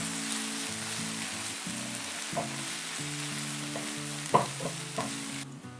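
Onions, ginger garlic paste and green chili fry steadily in a pan for a Muslim-style biryani brinjal gravy, a continuous close sizzle with a few sharp stirring scrapes and clinks, under a low steady musical hum and no talk.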